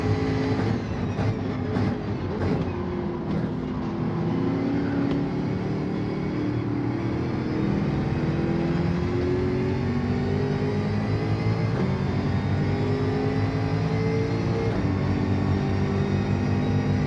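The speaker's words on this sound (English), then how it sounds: "Oh, this Bugatti is slow." A Bugatti race car engine in Gran Turismo 7 drones steadily throughout, its pitch climbing and holding as it pulls through the gears at a constant, fairly loud level.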